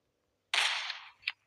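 A cannon firing in a video game, one sharp, bright blast that rings out for about half a second, followed by a short metallic click, alone and close.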